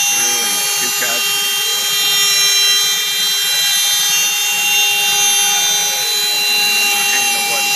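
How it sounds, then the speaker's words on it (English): CNC router cutting wood with an aggressive 1/4 inch end mill, a loud continuous high-pitched whine and grinding roar close to the microphone, steady throughout with slight rises in load. "Put her in a aggressive 1/4 inch sweep. 1/4 inch end mill. I'm telling to cut through and 2 cuts."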